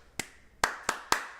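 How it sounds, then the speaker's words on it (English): Four sharp hand claps in an uneven rhythmic pattern, used as a music-class attention-getter, loud and close with no talking. "Right, and they clap back."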